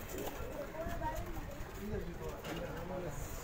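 A pigeon coos in low, soft repeated calls close by, with a voice talking alongside.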